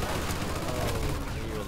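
Machine gun fire in the Mafia 2 Definitive Edition video game, an Old Country wartime battle, comes as a dense, distant-sounding rattle of shots blended into a steady wash of battlefield noise, brief and fairly faint.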